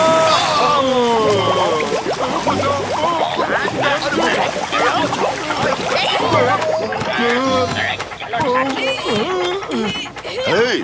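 A boat overturns at sea in an animated cartoon, with busy water splashes and sloshing mixed with cartoonish squawks and excited voices, loud and close throughout.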